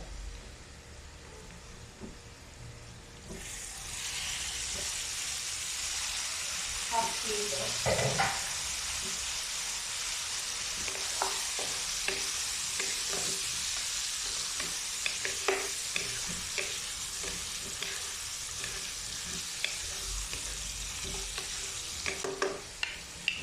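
Boiled beef hits a hot pan for a Filipino beef igado, bursting into a loud, continuous sizzle with intermittent scraping and clinking of a utensil stirring the meat, close and steady.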